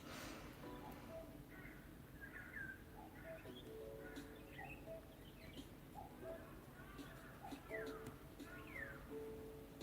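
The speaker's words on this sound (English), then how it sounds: "Oh yeah, mourning doves." Soft, low cooing of doves sounds under faint chirps from other birds. The calls are distant and quiet against steady outdoor background noise.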